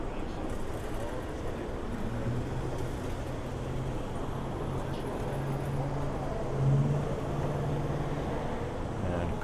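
Cars rolling past in a presidential motorcade on a Helsinki street, a steady low traffic rumble with a faint engine drone, heard from the roadside under crowd ambience.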